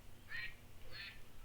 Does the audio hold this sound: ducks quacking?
yes